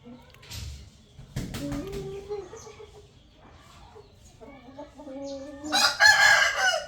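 Backyard chickens clucking in an irregular scatter, with a rooster belonging to the flock crowing loudly near the end; someone talks over the birds.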